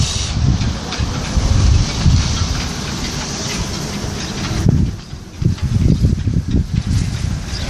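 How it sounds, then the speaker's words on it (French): Steady roaring wind whistling through boat rigging and cables at Port Ouest, Réunion, with a faint high whine, gusting unevenly and buffeting close by, no voices. "le bruit du vent là dans les vergues et les câbles"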